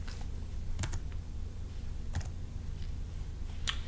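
Typing on a computer keyboard while entering commands on a Stratasys J750 printer's embedded system: scattered, sparse key clicks over a steady low hum, close and fairly quiet.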